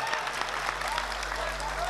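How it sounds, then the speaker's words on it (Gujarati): Steady audience applause fills a comedy show, a dense, even clatter of many hands clapping nearby, with a faint voice surfacing briefly beneath it. "જોરદાર તાળીઓથી વધાવો ભાઈ."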